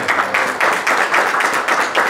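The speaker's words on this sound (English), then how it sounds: "Give him a round of applause for all the amazing work that's for the community" An audience at a community event claps in steady applause, with the hand claps arriving in regular, rhythmic waves at a moderate, close-sounding level.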